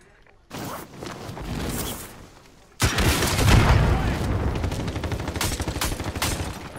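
Rooftop gunfire in Call of Duty: Modern Warfare Warzone, a sustained burst of rapid shots and booms that grows louder after a brief lull, with game sounds around it.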